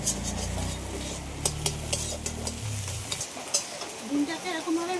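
An egg frying in a pan, a soft steady sizzle with sharp clicks and scrapes of a utensil against the pan as it is stirred; a low hum fades out partway through.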